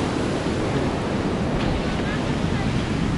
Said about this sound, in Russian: Так, волна меня прогнала.